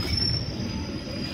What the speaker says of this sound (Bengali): ঢুকে গেল ট্রেন পদ্মপুকুরে